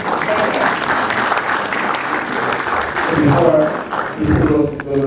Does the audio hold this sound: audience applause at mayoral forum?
yes